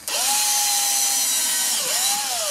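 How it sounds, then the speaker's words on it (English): A power drill bores holes into an old boot to make a planter, a loud, close whine that spins up, holds steady, dips briefly and revs up again. "so I'm just going to drill in"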